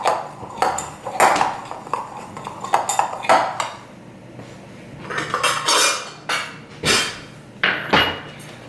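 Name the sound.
mixing biscuit ingredients together in a bowl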